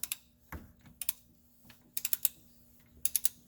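A large flex head ratchet clicks in quick, sharp bursts of three or four as it cranks a bolt loose on a 2002 Honda CR-V during a transmission mount job, the ratcheting close and crisp against a quiet background.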